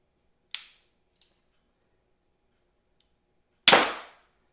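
A Barnett Demun TriStrike mini crossbow fires at a close target: a sharp snap, then a tiny faint tick, and after a long pause a louder, harder crack that quickly decays, in otherwise silent surroundings.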